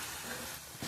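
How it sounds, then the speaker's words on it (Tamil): Spices tempered in hot oil in a ladle for chicken curry give a brief, close, steady sizzling hiss with no voices. "இது குழம்பு கரண்டி தானே, அதனால தான் குழம்பை தாளிக்கிறேன்"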